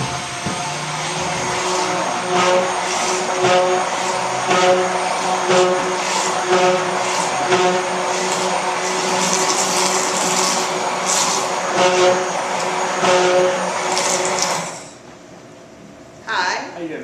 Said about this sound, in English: And I'm going to use an emulsion blender.